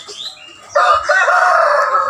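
A heavy fighting-breed rooster of about three kilos, a high-speed gamecock, gives a loud, close, drawn-out crow after a few softer clucking sounds.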